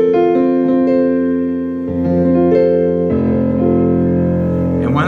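Casio PX-360 digital piano heard through its internal speakers with brilliance set to zero, sustained chords and melody notes played loud and full in a warm, mellow tone, with no talk.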